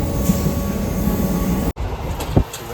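Steady rumbling of a moving train running through tea gardens, with a continuous low roar and rattle, briefly dropping out then resuming, with a faint squeal near the end.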